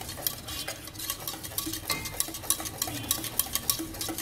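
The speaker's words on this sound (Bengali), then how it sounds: "এইরকম হ্যান্ড হুইস্ক দিয়ে শুধু নাড়ছি যাতে আমার চিনিটা" A hand whisk stirring sugar for Swiss meringue buttercream in a bowl, quick rhythmic metallic scraping and ticking strokes repeating steadily up close, with no voices.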